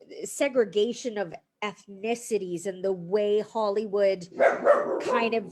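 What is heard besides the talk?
dog barking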